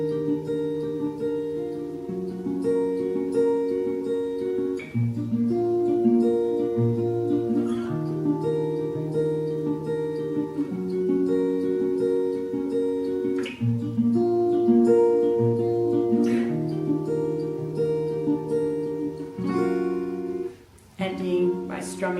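Guitar strumming the intro chords of a song, a steady run of full chords moving through changes at a moderate pace, heard alone at a soft, even level.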